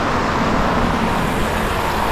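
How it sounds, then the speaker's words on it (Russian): Government cars drive through the Kremlin grounds in Moscow, where the speed limit is 30 km/h. A steady, dense roar of passing road traffic fills the whole stretch at a moderate distance, with no voices. "По территории то и дело ездят правительственные машины."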